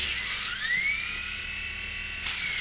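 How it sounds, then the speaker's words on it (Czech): BeeWi StingBee toy helicopter with its small electric rotors whirring at a steady high-pitched whine, close and continuous, with a slight pitch glide as the motors speed up and slow down. "postupně se vypínají a zapínají rotory, zkrátka, jak je potřeba pro správný let."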